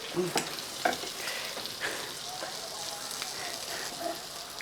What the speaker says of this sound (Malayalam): മത്തി വറുത്തത്